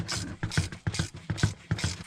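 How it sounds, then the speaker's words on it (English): Ratchet tightening alternator bolts on a 2000-2007 Chevy Silverado, a close, loud run of rapid clicking bursts repeating in a steady back-and-forth rhythm, five strokes in about two seconds, with no talk. "then I start to tighten them up"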